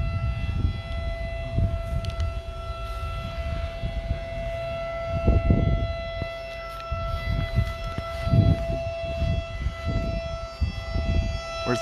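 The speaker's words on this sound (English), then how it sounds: "Where's the siren? There it is." Civil defense outdoor warning siren sounding in Allen County, Ohio, a steady wailing tone carried from a distance under wind and handling noise, with no talking.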